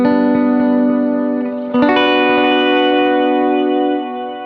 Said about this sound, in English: So here is the Raise a Hallelujah, Big Sky, and timeline patches that I've been using.